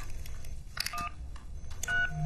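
Keypad tones sound on a bank's telephone menu system, a few short beeps in quick succession, close and clear over a low background hum.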